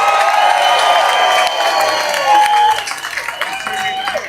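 A street march crowd in London applauds, cheers and whoops, with loud, dense clapping and shouting close by that thins slightly toward the end.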